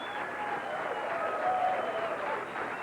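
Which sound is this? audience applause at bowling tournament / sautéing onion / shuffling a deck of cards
audience applause at bowling tournament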